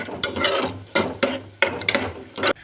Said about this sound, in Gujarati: હવે આપણે ફ્રેન્ડ્સ ફટાફટ એને આપણે મિક્સ કરવાનું છે.